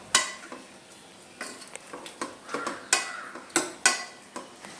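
Lentils being mixed into pumpkin erissery: a ladle scrapes the pot in a steady rhythm of about a dozen short strokes, close and moderately loud, without talk.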